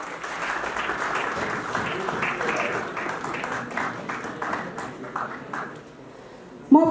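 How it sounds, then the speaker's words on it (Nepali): Students applaud at a district-level inter-school quiz contest in Kaski, a broad sustained clapping that runs steadily for several seconds before thinning out, with a sharp louder burst right at the end. "कृपया विद्यार्थी भाइ बहिनीहरू जोरदार ताली लगाइदिनु होला।"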